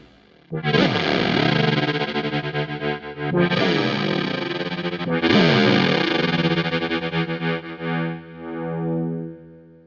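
Three sustained synth-like guitar notes through a Meris Enzo synth pedal with portamento off, heavy distortion and chorus, each struck separately and ringing out with no glide between pitches.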